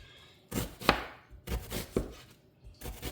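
A knife dices food into tiny pieces on a cutting board for slow cooker white chicken chili, three separate bursts of quick, close chopping taps with short quiet gaps between.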